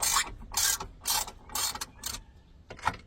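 A ratchet loosening and backing out the bolts of tow mirrors on a 2003-2006 Chevy Silverado or GMC: five loud, close bursts of clicking ratchet strokes in a steady rhythm, separated by short pauses.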